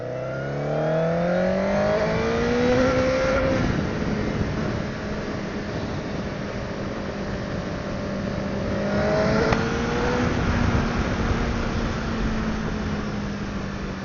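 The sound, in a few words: Honda CBR1000RR motorcycle accelerating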